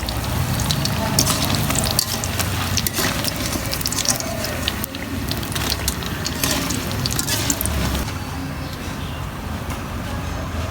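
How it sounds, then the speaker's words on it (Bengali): Eggplant frying in a pan of oil, a loud, close, continuous sizzle with scattered crackles and pops, steady throughout without speech. "মা এখন বেগুন ভেজে নিচ্ছে।"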